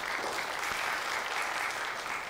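A church congregation at a Sunday worship service claps together in a dense, even round of applause that holds steady from start to finish.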